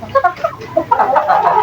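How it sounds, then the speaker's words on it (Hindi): Two Thai Vietnamese roosters cluck in a run of short, close, loud calls that crowd together toward the end, with no talk. "दो मुर्गे हैं माशाल्लाह से,"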